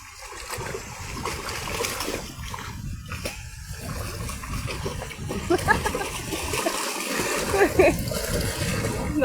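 Water splashes and churns continuously as people jump in, with a couple of sharper splashes, while voices call out over the noisy, busy surroundings.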